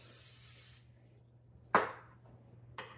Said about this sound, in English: you're gonna spray it like they do.